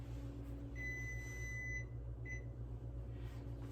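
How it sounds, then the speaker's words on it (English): An oven timer beeps faintly in a kitchen as a pizza finishes baking: one longer tone, then a short one, over a steady low appliance hum. "There's the timer."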